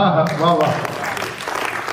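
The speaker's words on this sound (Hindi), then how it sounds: "और थोड़ा रोकिए अपनी तालियों को।" Audience applause at a Hindi poetry recital. A brief spoken voice gives way to a dense, steady burst of clapping from a crowd, loud and sustained to the end.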